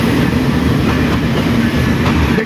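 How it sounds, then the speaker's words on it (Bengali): The intercity Up Ekta Express, hauled by locomotive 6627, rolls into Santahar Junction, a loud continuous rumble of wheels and carriages close by with faint rail clatter and no voices. "পঞ্চগড়গামী আন্তনগর আপ একতা এক্সপ্রেস ট্রেনটি 66-27 লোকোমোটিভ নিয়ে সান্তাহার জংশন ইন করলো"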